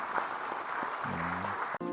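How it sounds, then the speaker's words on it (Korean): Brief applause from a church congregation for a young drummer at a revival service, moderate clapping with a held musical tone entering near the end. "우리 세연이한테 축복의 박수 한번 하십시다"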